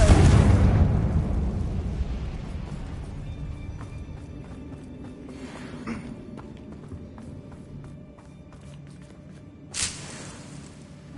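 A Confringo fire spell goes off in a Harry Potter video game, a loud broadband blast that fades into a long low rumble, with a second sharp burst near the end.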